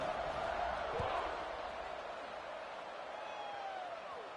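Football stadium crowd during a college game against Wyoming, a steady broad murmur of spectators after a score, with a play-by-play announcer talking over it.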